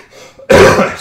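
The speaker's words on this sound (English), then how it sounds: "excuse my cough." A man with a cold gives a single sharp cough, loud and close, after a brief quieter throat sound, with no talking.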